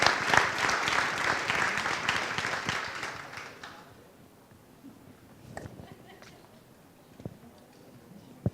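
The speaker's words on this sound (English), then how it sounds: "So real quick, round of applause" A crowd gives a round of applause for men's team members at a JBLM garrison event, loud sustained clapping for about three seconds, then tapering into a quieter room with a few scattered claps and knocks.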